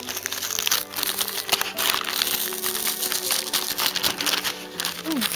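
Orange tissue paper being handled and crinkled close up, a continuous papery rustle with small crackles, alone and fairly loud throughout.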